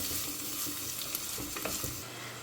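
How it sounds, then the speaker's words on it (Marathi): Chopped onions fry in a pan with a faint, steady sizzle, broken by light scraping and stirring sounds from a utensil. "कांद्यांनी आमकां एक जस्ट 2 3 मिनटां फ्राय करून घेवंक जाय"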